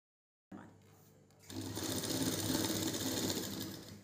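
A sewing machine stitching a blouse starts with a quiet mechanical hum that rises after a second into a steady, close, fast whirring run of stitches.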